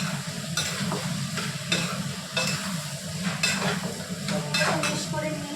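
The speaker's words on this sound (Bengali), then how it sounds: "এটা দিয়ে আমি ভালো করে এখন সবজিটাকে মিক্স করে নিই।" Vegetables dusted with red chili powder are stirred in a frying pan, a steady sizzle broken by repeated scraping strokes of the spoon against the pan, close and continuous with no talking.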